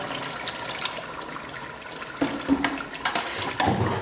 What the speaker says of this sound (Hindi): आलू सख्त ने, इस वास्ते थोड़ा जा पानी ऐड कर रहे हैं।